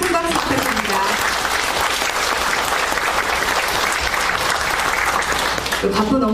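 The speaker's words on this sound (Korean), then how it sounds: "김영종 종로구청장님, 큰 박수 부탁드립니다." Audience at a city humanities declaration ceremony in Jongno applauds the district mayor, loud sustained clapping that fills the room and swells across the whole stretch, with a voice heard briefly at the edges.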